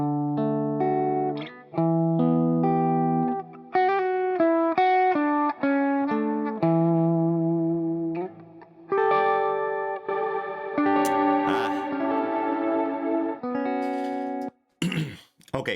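An electric guitar plays a melodic run of clean notes while reverb is gradually raised on a mixing fader, the tail growing fuller and washier toward the end, with a few abrupt cutoffs.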